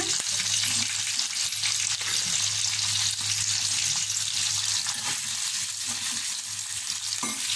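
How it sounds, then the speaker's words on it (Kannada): Ivy gourd, green chillies and brinjal frying in a pan, a loud continuous sizzle with stirring scrapes throughout. "ಈಗ ಬದನೆಕಾಯಿ ಹಾಕ್ಕೊಂಡು ಹುರ್ಕೊಳ್ಳೋಣ."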